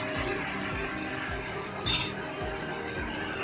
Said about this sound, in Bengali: এটাকে দিয়ে এবার ভালোভাবে নেড়ে দেব